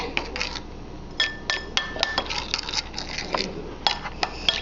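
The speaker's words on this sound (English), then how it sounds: "Then you're going to close up your container and mix this up." A closed plastic container of soap colorant shaken to mix, producing quick rattling, clinking bursts in an uneven rhythm, close and fairly loud with no voices.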